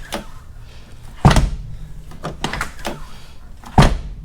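A Toyota AE86's door swings shut on newly installed hinges, with two sharp solid slams and several lighter knocks and rattles of the door and latch in between, close up in a quiet workshop.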